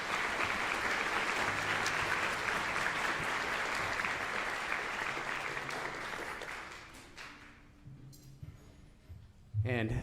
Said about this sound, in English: So extra round of applause for all the soloists on that piece.